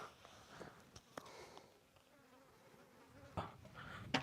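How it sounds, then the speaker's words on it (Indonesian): Flies buzz outdoors at Lake Tyrrell, a salt lake in rural Victoria, Australia, in faint passing drones with a few sharp knocks and rustles nearby. "Wah, tengok ni lalat."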